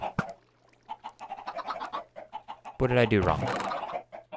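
Minecraft chickens cluck in a quick run of short clucks under a voice, followed by a longer, louder burst of overlapping squawks.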